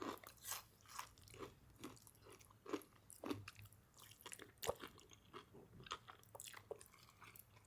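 Close, crisp bites and chewing on a crunchy piece of Jollibee fried chicken, with repeated crackling crunches at an uneven rhythm and no talking.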